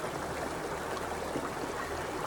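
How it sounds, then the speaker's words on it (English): Freely flowing stream water in a steady, broad rush, close and continuous without pause, with no other sounds above it. "So we're going to harness the support of these freely flowing waters, the sound, the movement"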